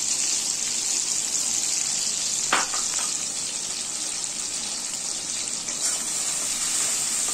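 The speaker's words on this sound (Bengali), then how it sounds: "1/2 কাপ মতন জল দিয়ে দিলাম যাতে মশলাটা পুড়ে না যায়।" Water, about half a cup, poured into spiced masala frying in a pan over melted tomato, a steady loud sizzle with a brief splash burst partway through, no talk.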